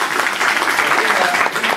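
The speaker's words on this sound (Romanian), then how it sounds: "Voi aplaudați? Aplaudați!" Audience applause in a Romanian cultural event hall, a steady dense wash of clapping held at even loudness throughout, with no break.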